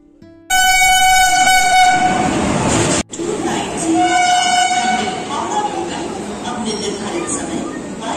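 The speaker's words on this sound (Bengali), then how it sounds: "ট্রেন একদম তার নির্ধারিত সময় রাত 9:45 হাওড়া স্টেশনকে বিদায় জানালো।" The 13019 Bagh Express to Kathgodam leaves Howrah station in Kolkata at night, sounding a loud, sustained horn close by. After a brief break, heavy rolling rumble and a fainter horn follow under station noise.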